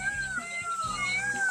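A kitten gives a few thin, high meows in quick succession, close and fairly soft, in a village.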